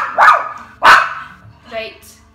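A dog gives two sharp, loud barks close by, followed by a softer whining yelp.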